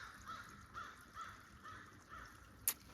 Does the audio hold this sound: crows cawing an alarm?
yes